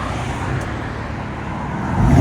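Exhaust note from a 2018 Dodge Charger with a 3.6L V6 and Big Boz 4 mufflers, a steady low rumble held close and even, then swelling louder in the final moments with no voices over it.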